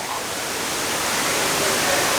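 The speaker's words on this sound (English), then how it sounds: "Waterfall." A waterfall among themed rockwork in Pandora at Animal Kingdom gives off a steady, broadband rushing wash, close and unbroken, slightly rising in level over the short span.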